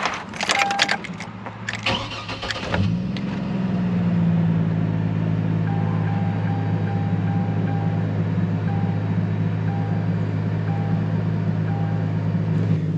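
A Chevy Trailblazer's GM Atlas 4200 inline-six, fresh from a spark plug change, cranks with rapid clattering, catches, and settles into a steady, smooth idle hum heard up close for the rest of the clip.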